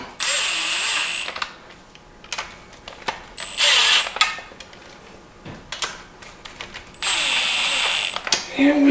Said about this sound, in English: Just put the low torque setting on. Just tighten that guy up.